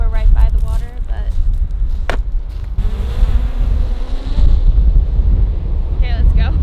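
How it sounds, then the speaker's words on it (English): Steady wind buffets the microphone in a continuous roar by the water on the Iceland coast, with a brief voice at the start and end. "It does seem a little bit windy because we're right by the water"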